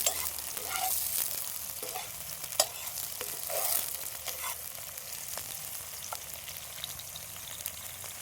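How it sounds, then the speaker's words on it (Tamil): Mutton masala is sautéed and stirred constantly in a pan, with a soft, continuous sizzle broken by scraping spoon strokes and occasional sharp clicks, heard fairly faintly with no talking. "கை விடாமல் நல்லா வதக்கிட்டே இருக்கணும்."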